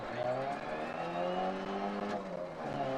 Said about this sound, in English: I'm going to end up in a wall again.